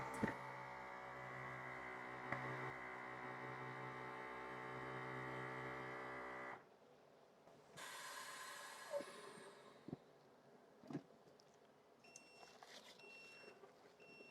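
A vacuum sealer's steady mechanical hum runs for several seconds while sealing a bag of meat, then cuts off abruptly, followed by a hiss of released air and a few clicks.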